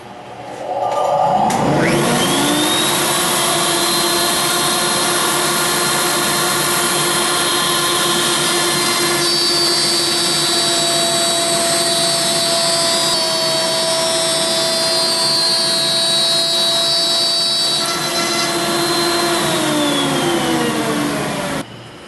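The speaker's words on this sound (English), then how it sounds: "we'll cut a flute right through here, right down the center." A handheld router runs at steady high speed, cutting a flute down the center of a wooden column, with a sustained whine and a broadband cutting roar. It spins up at the start, holds loud and close for about twenty seconds, then winds down.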